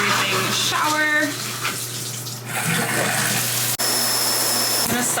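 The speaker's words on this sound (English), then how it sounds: "Time for an everything shower." Shower water running steadily in a bathroom, a loud continuous hiss and spatter that shifts as the flow is moved, with a brief cut partway through and a voice briefly audible early on.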